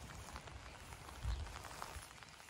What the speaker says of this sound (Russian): а сегодня дождь идет